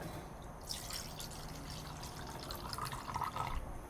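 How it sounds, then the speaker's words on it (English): Wine pours into a bowl, a soft continuous liquid trickle with light splashing and drips, fairly close and quiet. "this wine is going to be poured into this bowl a little under half"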